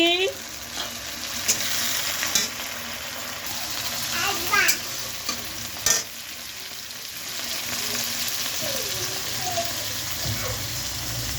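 Tomatoes drop into a hot pan and fry with a steady sizzle, stirred with a few scraping clinks, while a voice speaks intermittently over the cooking.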